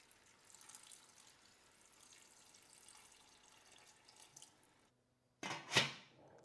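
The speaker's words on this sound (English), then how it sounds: "I'm going to add a little water." Water is poured into a pot of fish and wild celery, a splashy pour that swells and fades after a few seconds of faint kitchen background.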